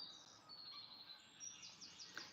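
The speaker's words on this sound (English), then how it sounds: "Can you guys hear the birds?" Birds singing outdoors, thin high chirps and tweets faint in the background over a soft steady hiss.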